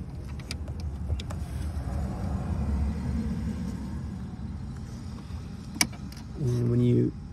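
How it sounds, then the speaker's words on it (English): Electronic steering lock motor on a Mercedes W204 C-Class running after a relay's pins are bridged, a brief steady whirring buzz near the end, rising above a low continuous rumble with light clicks. "when you short these two pins, motor starts, and now you can drive it"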